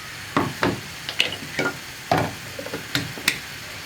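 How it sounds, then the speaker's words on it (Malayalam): Chicken tossed with ground masala in a hot pan, about eight scraping stirring strokes over a soft sizzle, close and moderately quiet, without speech. "ഇതും കൂടി ചേർത്ത് നന്നായിട്ടൊന്ന് ഇളക്കി മിക്സ് ചെയ്യുക."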